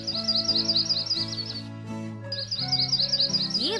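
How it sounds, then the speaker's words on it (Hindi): Small bird chirping while feeding its chicks, a run of bright, rapid repeated tweets over a sustained musical backdrop, with a brief pause before the chirps resume. "चिड़िया अपने बच्चों को खिला रही है"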